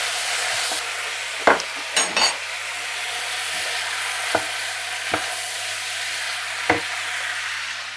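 Garlic and vegetables sizzle in a hot pan for a Thai-style stir-fry, a steady frying hiss broken by occasional clinks and scrapes of a utensil against the pan.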